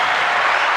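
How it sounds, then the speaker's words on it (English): Burst of applause sound effect, a dense, even hiss of clapping hands, loud and close, lasting under a second. "Did you do the applause?"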